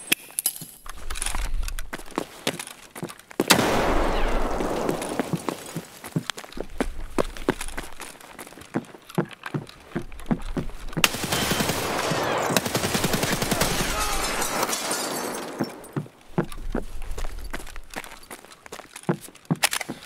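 In the shooter game Escape From Tarkov, an SA-58 CQB rifle loaded with M61 rounds fires bursts and single shots, sharp close cracks spread over several engagements, with footsteps and movement noise between the volleys.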